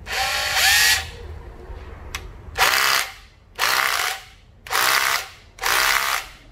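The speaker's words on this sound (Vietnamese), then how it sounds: "Rồi anh em ấn vô là nó sẽ đập búa ha" A Makita HR162D cordless rotary hammer runs in hammer mode in four short, loud bursts of rapid rattling impacts, each under a second long, with brief pauses between, after an opening run and a quieter stretch.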